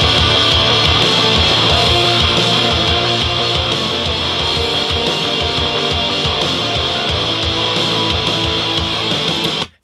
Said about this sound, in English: Now you're listening to drums, bass, and rhythm guitars.